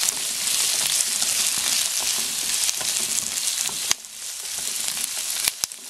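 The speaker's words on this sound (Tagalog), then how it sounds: "lagay po natin itong carrots at saka itong mushroom. Haluin natin mabuti." Carrots and mushrooms being stir-fried for yakisoba in a pan, a steady close sizzle with scraping stirs running throughout, briefly dipping after a sharp knock near the middle.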